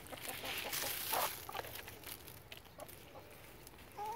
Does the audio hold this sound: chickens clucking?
yes